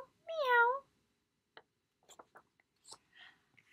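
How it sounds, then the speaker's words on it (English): A single clear cat meow, close and fairly quiet, followed by faint soft clicks and rustles. "It's a cat. And what sound does a cat make?"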